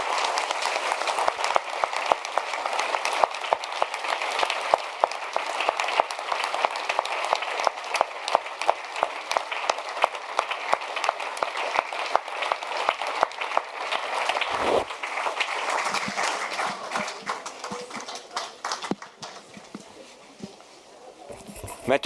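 An indoor audience at a book event applauds a departing nun, Sister Simone, with sustained dense clapping that runs steadily for about twenty seconds before thinning and fading out near the end.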